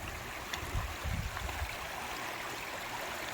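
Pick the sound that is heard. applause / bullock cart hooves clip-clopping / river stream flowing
river stream flowing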